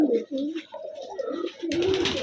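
A Rajshahi Giribaj pigeon coos close by in a series of low, wavering throaty notes, and a burst of louder rustling noise joins near the end.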